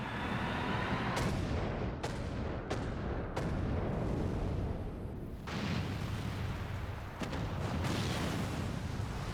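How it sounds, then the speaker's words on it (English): Long-range artillery cannon firing in Final Fantasy XIV, with a series of loud, sharp booms spaced every second or so. Each blast rings out over a rumbling battle backdrop, and no voices are heard. "Long-range artillery."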